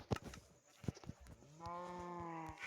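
A cow in a farm video game lets out a sustained, tonal moo that swells after a few soft clicks and taps, fairly quiet and alone.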